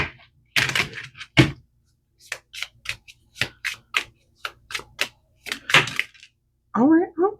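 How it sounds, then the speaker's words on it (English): Someone shuffles a deck of tarot cards by hand. Crisp card snaps and slaps come in irregular bursts with short silences between them, and a brief voice is heard at the end. "Let me just do a quick shuffle."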